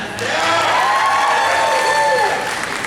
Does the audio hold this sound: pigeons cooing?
no